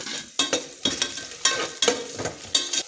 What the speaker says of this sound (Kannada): ಇವಾಗ ಆನಿಯನ್ನು ಫ್ರೈ ಆಗಿದೆ